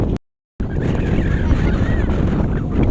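Steady wind rushes hard against the microphone at the Kapurpurawan Rock Formation after a brief cut to silence, a constant loud roar with no voices.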